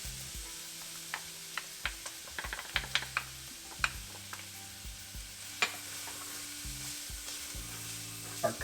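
Ground turmeric, cumin and coriander sizzle in oil with browned onions on low heat, stirred with a spoon that taps and scrapes the pan in irregular clicks.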